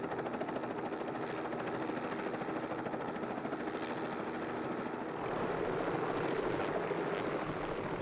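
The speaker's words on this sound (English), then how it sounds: "The heli tanker can work from elevated sites," Helicopter spray tanker working from an elevated site, its rotor and engine giving a steady, loud, close throbbing roar that holds throughout with a slight swell near the end.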